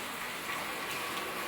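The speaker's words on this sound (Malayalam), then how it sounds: "മഴ തന്നെ മഴ." Heavy rain falling steadily, a dense continuous hiss that holds at an even level throughout with no voices or other sounds over it.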